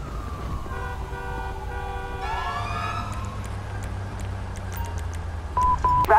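An ambulance siren wails and rises and falls in the GTA V video game, mixed with steady city traffic rumble and beeping tones. The siren is loud and continuous throughout.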